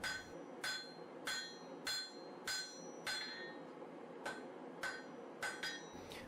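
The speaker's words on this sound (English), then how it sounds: "I began by forging this stub out to the same width as this small piece of blue steel" A hammer strikes a Damascus steel stub being forged out, about a dozen sharp metallic blows in a steady, slightly uneven rhythm, each ringing briefly, heard close with no talking.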